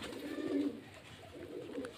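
Soft, muffled cooing comes from Murshidabad desi Giribaz pigeons, a low throaty burble swelling early and returning faintly toward the end, with no one speaking.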